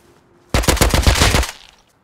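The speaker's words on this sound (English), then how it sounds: "let's take the AK and kill some people" A close, loud burst of fully automatic AK rifle fire in the survival game Rust, with about a dozen rapid shots in just over a second that then cut off.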